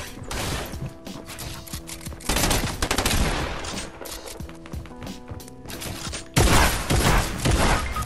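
Gunfire in Fortnite, with loud bursts of rapid automatic shots in several stretches and clattering mechanical noises between them.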